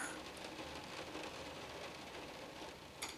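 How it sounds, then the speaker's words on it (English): Rain drumming on a plastic cover over a bathroom skylight, a steady dense patter with a faint sharper tap near the end, quiet and continuous. "the rain was hitting the plastic cover, and it sounded so good"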